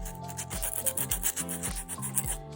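Close, rhythmic scratchy rubbing of sandpaper against a red-bottom shoe sole, repeated back-and-forth strokes at a quick even pace.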